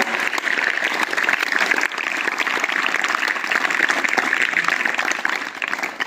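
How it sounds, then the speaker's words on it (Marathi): A crowd at a school award ceremony and month-end review meeting claps in unison, dense sustained applause running loud and continuous for several seconds with no pause. "सुरुवातीला आपण कवाळे सरांचं तीन टाळ्या वाजून अभिनंदन करूया"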